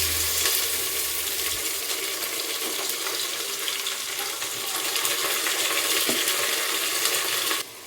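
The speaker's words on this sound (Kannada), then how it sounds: "ಚೆನ್ನಾಗಿ ಹಸಿ ಸ್ಮೆಲ್ ಹೋಗೋವರೆಗೂ ಚೆನ್ನಾಗಿ ಫ್ರೈ ಮಾಡ್ಕೋಬೇಕಿದು" Garlic paste fries in a pan with a steady, bright sizzle that crackles continuously at close range.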